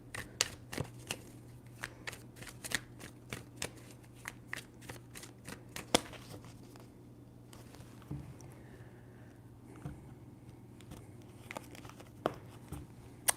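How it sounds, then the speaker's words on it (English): Tarot cards are shuffled by hand, giving a run of quick, crisp riffling and snapping bursts in close, quiet surroundings with no talking. "3 shuffles."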